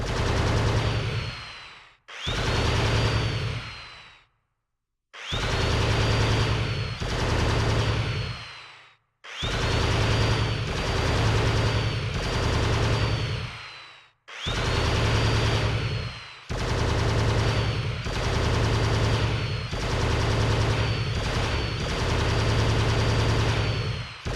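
Turret machine gun fire in the video game Terminator Dawn of Fate during basic combat training: loud, sustained automatic bursts in several long strings separated by short pauses, with a mechanical whine running through them.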